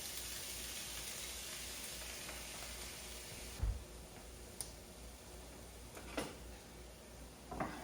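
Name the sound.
vegetables dumped into a cooking pan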